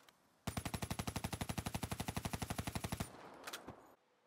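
A Kuda SMG in Black Ops 3 fires one steady automatic burst of about thirty evenly spaced, loud, close shots, then stops, followed by a short mechanical rattle and a faint tail.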